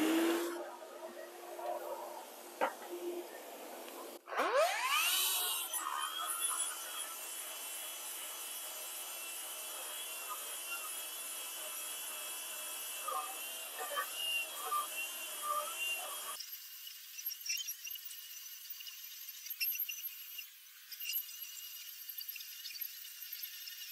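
A loud concrete floor grinder with a vacuum starts with a sharp whine and then runs steadily with a constant high rasp and a vacuum roar. It stays close and continuous throughout.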